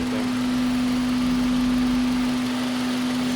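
A K-swapped Honda Civic engine idles quietly with a steady, low hum and faint vibration, even and unchanging throughout, with no voices.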